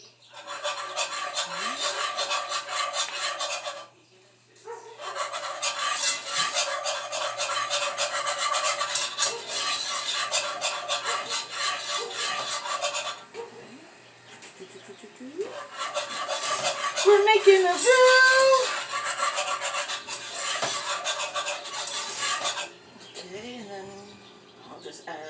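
A metal whisk scrapes and rasps briskly against a pan while flour is whisked in, coming in long continuous bursts with short pauses, and a person talks between strokes.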